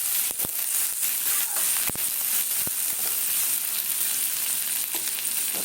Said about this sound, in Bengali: আলু ভাজার তেলেই করছি আমি